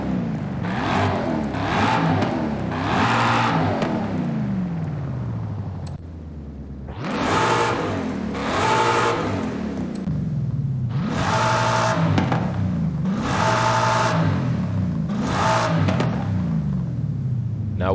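A Ford Mustang engine with a new exhaust revs repeatedly in Forza Horizon 5, rising and falling in several loud, close bursts with a deep throaty rumble and a brief dip between pulls.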